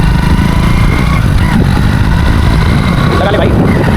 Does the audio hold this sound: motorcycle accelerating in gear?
yes